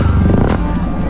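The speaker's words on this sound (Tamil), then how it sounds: "இந்த பொண்ணோட பைக் சைலன்ஸ் சத்தத்தை கேட்டு" A loud motorcycle exhaust roars up close, a deep throaty rumble that rises briefly in pitch.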